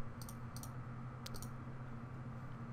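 A few quick key taps on a computer keyboard, entering a digit at an encryption password prompt, come in small clusters over a steady low hum, with no voices.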